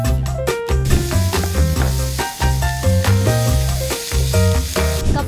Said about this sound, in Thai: สุดท้ายแล้วนะคะก็จะใส่ใบกะเพราแดงลงไปค่ะ